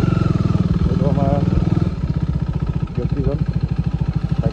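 A modified KTM RC 390 motorcycle idling up close, a loud, even low throb with rapid pulsing and a slight drop in pitch partway through, while people talk over it.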